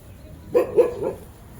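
A dog gives two or three quick barks nearby, short and sharp, over a quiet background.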